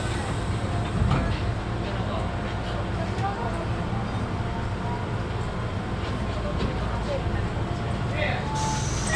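A Keihan Ishiyama-Sakamoto Line tram runs beside Lake Biwa toward Ishiyamadera, giving a steady rumbling interior drone with faint rail clatter and occasional squeals, continuous and moderately loud throughout.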